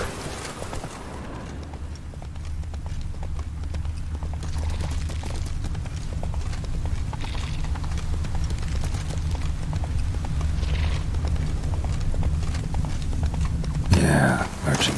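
The horse Roach gallops across open country in The Witcher 3, steady rapid hoofbeats thudding close and even for the whole stretch, with a sharper burst of noise near the end.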